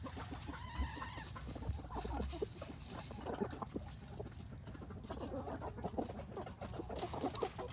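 Barred Rock chickens, a young laying flock with an older rooster nearby, cluck steadily while snacking outdoors, with soft overlapping clucks and scattered calls running throughout at moderate level.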